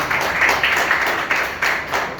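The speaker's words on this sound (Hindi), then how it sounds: "पहली बात नवयान धम्म चक्र बुद्ध विहार के लिए भी एक बार मैं जोरदार ताली चाहूंगा" Crowd applause for a Buddhist vihara at a jayanti gathering for Emperor Ashoka, a dense wash of many hands clapping that swells in waves over about two seconds, with no talking over it.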